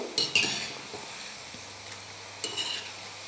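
Onion and rice-flour snacks frying in oil, a soft sizzle with a couple of metal ladle clinks and scrapes against the pan at the start and again near the end.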